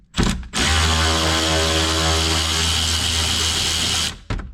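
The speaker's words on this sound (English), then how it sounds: "obviously I'm going to cheat because I have an electric ratchet" An electric ratchet undoes torx bolts on a Renault Twizy with a loud, steady motor whine lasting about three and a half seconds, set between brief short bursts, close up.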